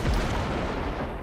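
Heavy ship cannon blasts wrecks in Cyberpunk 2077, a loud booming burst with a deep low rumble that fills the short moment without a break.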